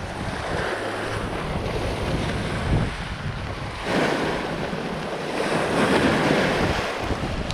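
Ocean waves surge and wash over a rocky shore near a fishing spot, a continuous loud roar broken by swells breaking every few seconds, with strong wind buffeting the microphone.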